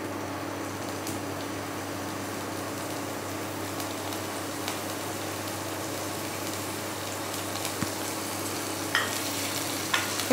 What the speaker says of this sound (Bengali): একটু রসুনটা ভেজে নেবো।